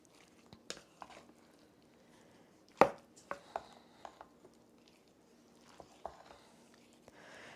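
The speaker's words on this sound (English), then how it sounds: "give this all a good mix together" Sparse soft scrapes and taps of a utensil against a bowl, with one sharper knock, quiet and close.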